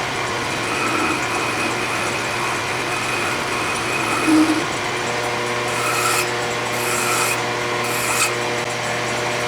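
A file rubs against a shaper handwheel spinning in a metal lathe, a continuous rasping scrape over the steady hum of the machine, with a few sharper strokes near the end.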